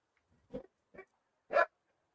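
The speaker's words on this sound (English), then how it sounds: "He is a doggy, yes." A dog gives three short, separate barks in a quiet room, the last one loudest and fullest.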